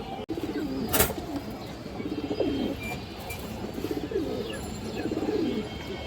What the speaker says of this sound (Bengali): বড় সাইজের একটা কালো গলা মাদি